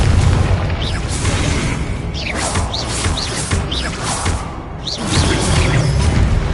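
The Confringo fire spell bursts in the video game Hogwarts Legacy on PS5, a loud, dense rumbling blast with crackling debris that rolls on continuously, swelling again near the end, with no talk.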